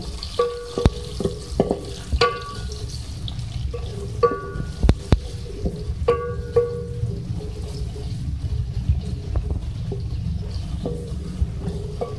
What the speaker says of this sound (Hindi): देखिए, ऑयल में हम सबसे पहले ऐड करेंगे प्याज ऐड कर रही हूँ। हम फ्राई कर लेंगे।